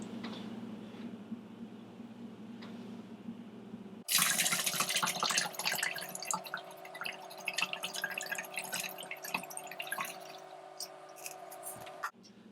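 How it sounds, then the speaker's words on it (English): Water poured into a bottle already holding a few drops of food coloring, starting abruptly after a quiet stretch with a steady splashing, trickling flow that runs for about eight seconds before cutting off. "What if I put 1 more liter of water in there?"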